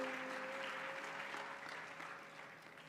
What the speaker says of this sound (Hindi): ताली तो बजा रहे हो